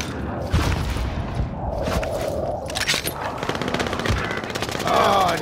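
Rapid automatic gunfire rattles through a Call of Duty: Modern Warfare Warzone quads match, with dense, overlapping bursts and sharp shots that stay loud and continuous throughout.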